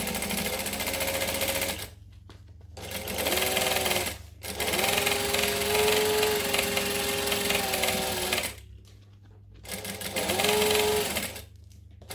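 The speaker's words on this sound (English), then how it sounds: "So I'm just going to stitch right on the edge." A sewing machine stitches along the edge of a fabric bag in long, steady motorized runs, loud and close, broken by short pauses between bursts of fast needle clatter.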